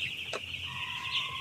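Broiler chickens in a coop give a steady stream of high, thin peeping and soft clucks, close by and fairly quiet, with a muffled background hum.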